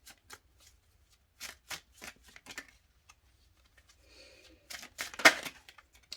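Tarot cards are shuffled and drawn by hand in short, crisp riffling bursts separated by pauses, closing with a louder flurry of shuffling up close.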